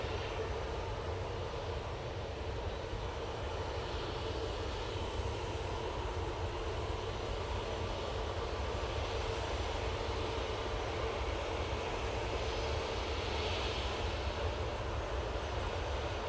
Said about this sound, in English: Next departure is an EasyJet A320 CEO.